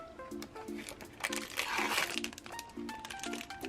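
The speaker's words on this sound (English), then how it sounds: "we'll go ahead and peel this off and open the stand" Packaging is peeled and crinkled off the box of an Amazon Echo Show 5 stand, crackling plastic and paper rustling close by, with a voice speaking over it.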